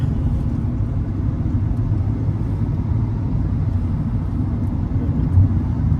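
Steady low tyre and road rumble inside a Kia Carens Clavis on the move, a constant loud drone with no breaks and a quiet voice barely present.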